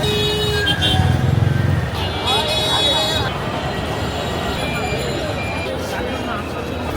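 A congested city road jam hums with engine and traffic noise while a couple of car horns toot early on, all running continuously beneath people talking close by.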